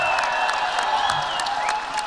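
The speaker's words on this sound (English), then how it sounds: "a round of applause for both of these athletes" A large crowd applauds and cheers fighters at a PFC mixed martial arts event, a dense, steady wash of clapping that stays loud and even for about two seconds, with no voices standing out.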